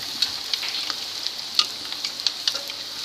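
Potato nargisi kofta balls frying in oil in a kadai, a steady bright sizzle with small irregular pops and crackles throughout, no voices.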